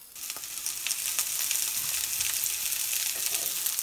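Chopped onions sizzle in a pan of hot oil while cooking a mutton liver pepper fry, a close, steady crackling hiss with small pops and occasional stirring scrapes.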